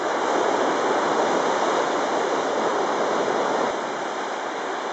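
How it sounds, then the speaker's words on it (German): Sea surf breaking below Fort St. Elmo in Malta, a loud, continuous broadband roar of waves that eases only slightly toward the end. "Das ist schon eine schöne Brandung hier."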